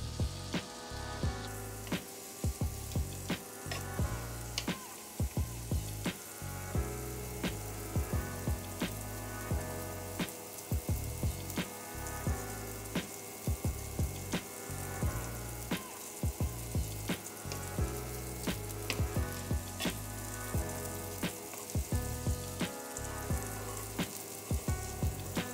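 Salmon frying in a pan, a dense, steady sizzle carried along by a regular thumping beat of background music throughout.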